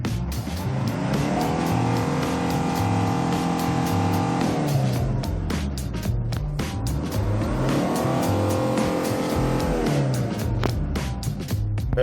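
A 2005 Hyundai Porter TCI diesel double cab truck, manual transmission, is revved twice in succession, each time rising to a sustained high whine then falling back to a clattering idle, loud and near.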